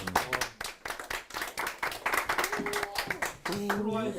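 Audience at a live book talk applauding: a dense burst of many hands clapping, irregular and close, fading near the end as a voice begins speaking.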